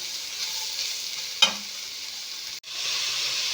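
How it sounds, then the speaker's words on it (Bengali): Grated carrots fry in hot ghee for carrot halwa, producing a constant close sizzle broken by one sharp utensil tap and a brief dip before the hiss resumes, no voices. "গাজরগুলো দিয়ে আমি ভালো করে ভাজবো।"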